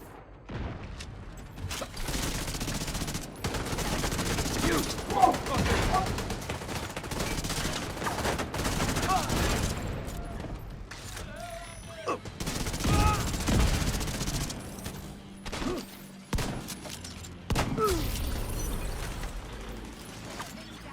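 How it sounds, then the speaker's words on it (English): Automatic and sustained gunfire from a firefight in the video game The Division 2, with bursts and single shots over a mechanical, cinematic backdrop, running loud for most of the stretch and thinning briefly near the end. "Get the gun firing!"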